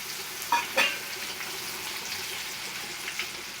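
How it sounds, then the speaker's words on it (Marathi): Green chillies and curry leaves fry in hot oil in a kadhai for murmura chivda, a soft steady sizzle with two brief louder clatters near the start, with no voices. "तर आपण मिरची तळून घेऊयात कढीपत्ता टाकायचा आहे"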